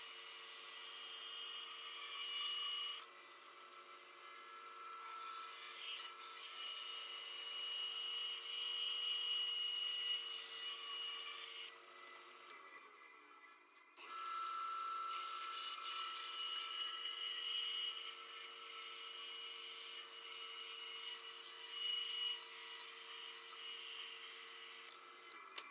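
Cow horn being sawn and rasped for knife handle scales, a steady loud scraping cut that runs in long strokes, pausing briefly twice before resuming, with no voices.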